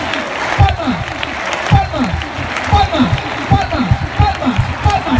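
Rhythmic clapping in time from a crowd at a Valencia recortes contest, a steady beat of palmas under a lively, noisy arena atmosphere.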